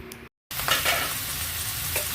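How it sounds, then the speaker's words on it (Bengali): Mixed vegetables (bottle gourd, pumpkin, eggplant, pointed gourd and carrot) sizzle loudly in mustard oil in a wok with dry chilli, bay leaf and panch phoron while being stirred, with a brief dropout near the start. "সবজিগুলো দিয়ে ভালো করে ফ্রাই করে নেব।"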